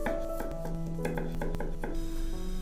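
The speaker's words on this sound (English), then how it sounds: "Finally, chop a few cloves of garlic." Garlic cloves being chopped with a knife for a garlic spaghetti with eggs, several quick knife taps on a board at an uneven rhythm, close and clear, with a steady background hum underneath.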